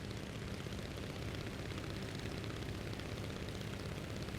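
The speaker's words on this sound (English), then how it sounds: "Engine sounds a little on the quieter side at exterior." Ryan S-C propeller aircraft engine heard from outside in Microsoft Flight Simulator, a steady, fairly quiet broadband drone with no talk.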